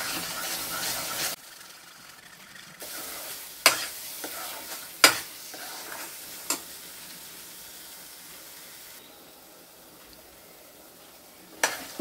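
Sweet and sour apple halwa cooks in ghee with a soft, steady sizzle, broken by a few sharp clinks and scrapes of stirring. The sound is fairly quiet and close, with no one talking.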